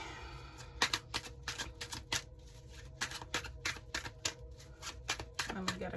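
Tarot cards shuffled and drawn from a deck, a run of crisp, rapid riffling snaps and card flicks close up, steady and fairly loud throughout.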